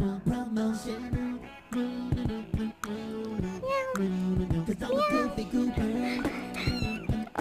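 A cat meows again and again, loud and close, with drawn-out wavering cries that rise and fall in pitch.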